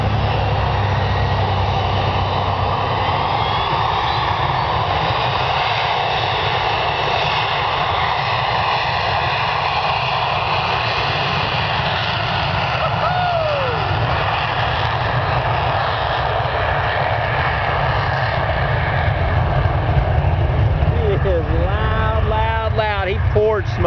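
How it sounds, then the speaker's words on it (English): A jet airliner taking off at an airshow, burning kerosene, with a steady, loud engine roar that continues throughout and a rising whine near the end. "He may be clear for takeoff now."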